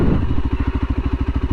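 Dirt bike engine at low speed during slow-control riding practice, a close, loud, even low-rpm thumping putter with a brief rougher burst at the start.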